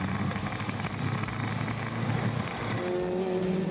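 A racing car engine roars past on a race track, including a red Miguel in a passing battle, loud and close with a brief high whine toward the end.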